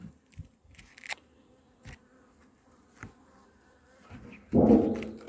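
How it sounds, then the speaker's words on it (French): Honeybee foragers around a beehive in an apiary, scattered close buzzes and soft knocks, swelling into a loud, sustained buzz as a bee passes near at the end. "les butineuses sont au boulot"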